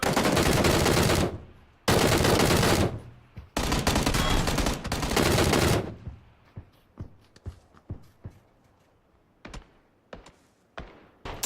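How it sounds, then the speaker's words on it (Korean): Bursts of automatic gunfire from the PUBG battle royale game, three long loud volleys back to back, then scattered single shots and sharp cracks trailing off into a quieter stretch. "아, 얘네 쏜다!"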